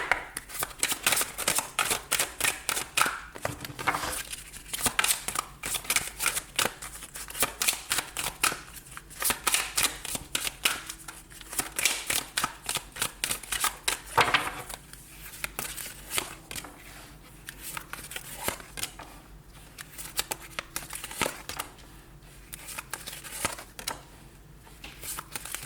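Tarot cards being shuffled and laid out, producing repeated rapid riffling flutters and soft slaps in close, irregular bursts, with brief pauses between shuffles and no talking.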